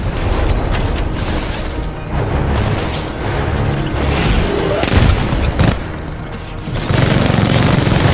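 Loud bursts of gunfire and heavy explosions in the video game Titanfall 2 crash continuously, dense and chaotic like a battle, with no pauses.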